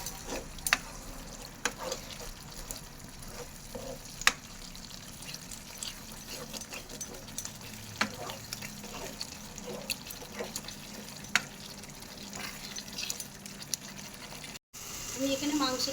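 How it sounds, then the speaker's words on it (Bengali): Water poured into frying masala for chicken kosha in a pan, producing a continuous watery hiss and bubbling sizzle with scattered sharp crackles and clinks, close and steady. "আমি এরপরে একটু জল দিয়ে দিচ্ছি যাতে মশলাটা তলায় না ধরে যায়"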